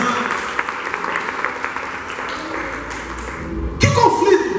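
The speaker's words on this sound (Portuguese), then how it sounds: "Aplaude o Senhor." A church congregation applauds during a intercession seminar service, a steady mid-level wash of clapping with a voice speaking over it before a sharper burst near the end.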